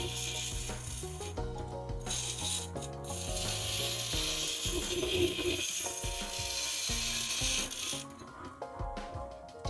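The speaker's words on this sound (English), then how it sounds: "Just grinding off the rough edges on the guy." Glass being ground down to take off its rough edges, a steady rasping mechanical grind with ratcheting, gear-like texture that runs continuously and fairly loud, with no talking.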